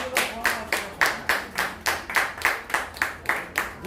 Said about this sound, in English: hey, a round of applause